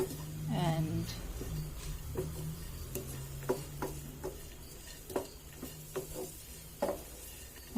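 Pumpkin seeds and dry fruit fry in ghee while a spoon stirs them, giving soft sizzling under a series of sharp scraping clicks and taps against the pan, with a brief squeak near the start.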